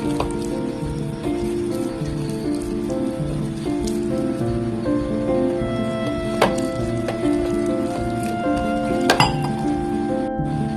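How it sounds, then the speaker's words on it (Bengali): Water is worked little by little into a stiff batter for crispy stuffed okra, giving continuous wet clinking and tapping of a utensil against a bowl, close and steady with a few sharper clinks. "তো একটু একটু জল দিয়ে একটা শক্ত ব্যাটার বানিয়ে নিচ্ছি।"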